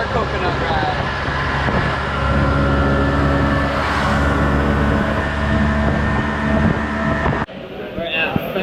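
A coconut taxi ride through Havana, with a steady, loud motor drone and road rumble that cut off sharply near the end, while people talk over it.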